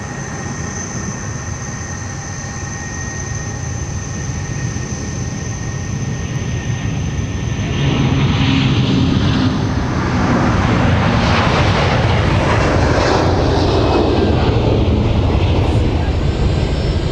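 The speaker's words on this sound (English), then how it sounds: "here comes Discover off to Frankfurt with the A330-300." A Discover Airlines Airbus A330-300 bound for Frankfurt takes off at MSP airport, its jet engines building from a steady whine into a loud, close roar that swells and holds through the second half.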